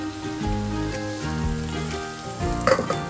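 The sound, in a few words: potatoes and pumpkin sizzling in hot oil in pan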